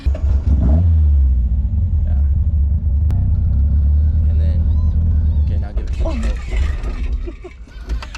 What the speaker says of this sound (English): Okay, I stalled it.